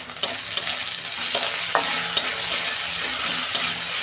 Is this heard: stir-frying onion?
yes